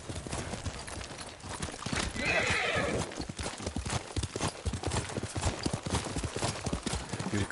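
Horse hooves clip-clop in an uneven rhythm, with a horse neighing briefly partway through, fairly close by.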